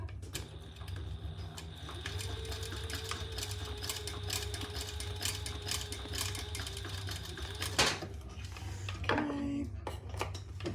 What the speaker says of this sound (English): One more row of stitches and then we're done